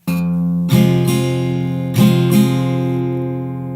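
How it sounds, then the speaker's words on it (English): A single low guitar bass note rings, followed by two quick down-up strum pairs, all close and clear with sustained ringing. "single bass note and then 2 down ups"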